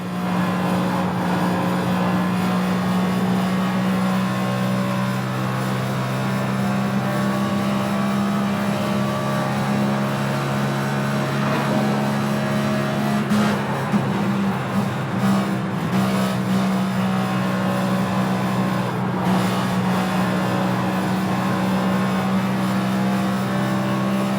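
A NASCAR race car engine, heard onboard Kyle Larson's car at the Fontana track during the 2023 season finale, drones loud and continuous with a sustained high-revving tone and slight pitch shifts over many seconds.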